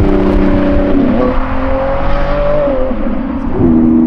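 Inside a Lamborghini V12 hybrid, the engine drones loudly and continuously, its pitch rising and falling gently as it revs, with no speech.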